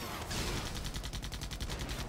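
Artillery in the video game Airmech Arena fires in a rapid, dense barrage, with repeated sharp bursts in a steady rhythm over continuous rumbling noise, loud and sustained with no talking.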